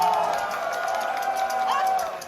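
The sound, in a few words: club audience cheering and shouting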